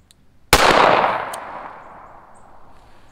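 A single sharp gunshot from a short-barrel .22 Magnum firing a Hornady FTX round into a gel block cracks once close by, then its echo rolls off and fades over a couple of seconds.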